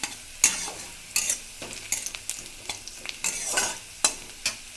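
A spice paste of ginger, cumin, dried and green chilli, onion and garlic frying and being stirred in a pan, with steady sizzling broken by repeated sharp scrapes of a spoon at irregular intervals.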